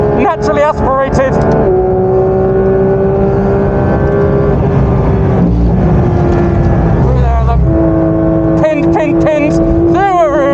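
A naturally aspirated Porsche 992 GT3 RS runs flat out at Spa, with a loud, close flat-six wail rising through the revs, dipping briefly at the shifts, and climbing again with sharp upshifts near the end.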